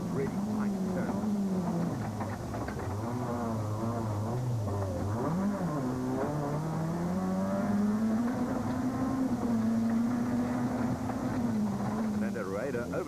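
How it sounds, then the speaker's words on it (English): A Toyota Runx rally car's engine drones loudly from inside the cabin on a 2006 Tzaneen Rally stage, its pitch rising and dropping through sequential gearbox shifts while a commentator talks over it. "Watch how busy Lawrence is with the sequential gearbox and using the handbrake for those really tight turns."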